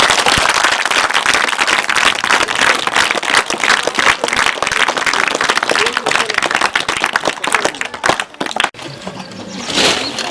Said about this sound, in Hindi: जरा ताली बजा के दिखाओ कितना तुम करते हो।